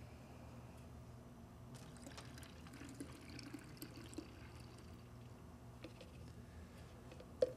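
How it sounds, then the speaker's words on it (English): Leftover ink is poured from a container into another bottle while flushing a Viper DTG printer, giving a faint, quiet trickle and splash of liquid with a few small clinks. "And we'll pour the remaining amount"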